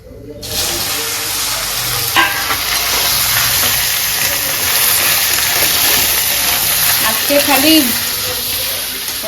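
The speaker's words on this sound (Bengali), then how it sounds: "আমি এই ভালো মতন ভেজে নিচ্ছি" Taro and prawn curry ingredients, with ginger among them, fry in a hot pan. A steady broadband sizzle runs throughout, with a few light utensil clinks near the start and end.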